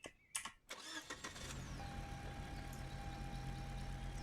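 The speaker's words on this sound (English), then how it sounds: "why don't we get into the car and listen to its startup?" A car engine in the Roblox game starts up, with a brief cranking burst followed by a steady idle hum. There is no talk over it.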